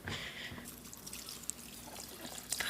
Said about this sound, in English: put a little water in there.